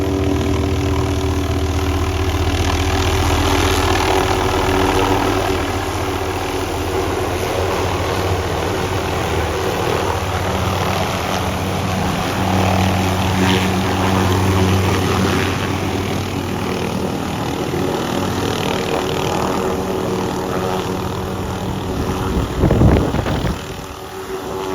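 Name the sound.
helicopter engine running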